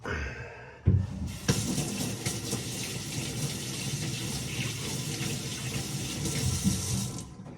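Tap water gushes steadily from a faucet into a bottle at close range, a continuous hiss with a thump as it starts and a slight shift as the flow settles.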